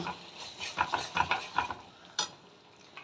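Prawns go into a hot pan and sizzle softly while a utensil scrapes and stirs in a quick run of light clinks and scrapes, followed by a sharper knock near the end.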